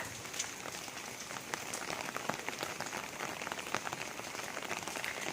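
Rain falls steadily at a temple on a cold day, a thick continuous hiss with crisp drops pattering on nearby surfaces, close and unbroken with no talking.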